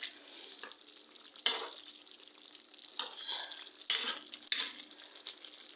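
Katla fish curry stirred in a pan: quiet sizzling underneath, broken by several short bursts of spoon scraping and clinking against the pan.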